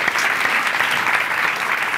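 A studio audience applauds at a Turkish television show, a dense, steady wash of many hands clapping close and loud for the full two seconds, with no voices standing out.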